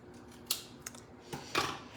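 Scissors trimming excess paper off a card panel, a few quiet separate snips spaced across a hushed background, with a louder cut near the end.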